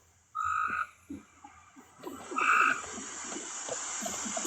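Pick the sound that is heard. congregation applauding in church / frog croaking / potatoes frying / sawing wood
frog croaking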